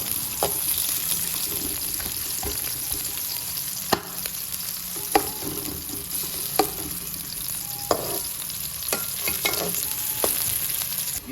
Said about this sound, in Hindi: ये देखिए प्याज ब्राउन हो गया।